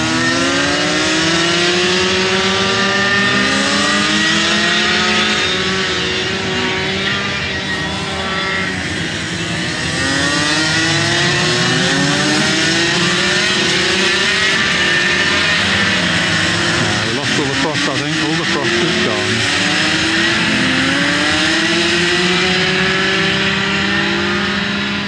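Go-karts racing around a corner at an outdoor track, several engines whining as they approach and pass, their pitch rising and falling in repeated sweeps that overlap, with a person talking over the racket.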